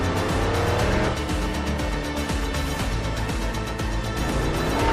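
An off-road rally truck drives during a desert rally race in Pakistan, its engine a loud, steady droning roar with shifting tones throughout, no one speaking over it.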